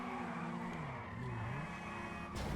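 A Banshee car in GTA Online slides around corners, a continuous engine drone with wavering pitch and tire scrub, fairly quiet, ending with a brief louder burst.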